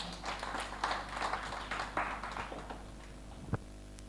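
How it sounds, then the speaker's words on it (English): Scattered applause from a conference audience for a presenting team, a loose patter of claps that thins out over a few seconds, fairly faint, ending with a single louder knock. "Round of applause for the team."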